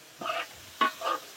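Fifteen kilograms of chicken pieces being mixed with masala by hand, giving two short wet squelching bursts of stirring and slapping close up, with no talk.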